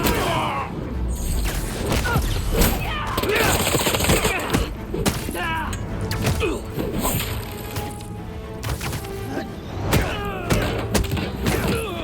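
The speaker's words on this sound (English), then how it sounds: "Open fire!" Heavy gunfire in the Spider-Man 2 video game on PS5 as a dense, loud fusillade of bursts and thuds, with debris clatter and shouted voices through the chaos.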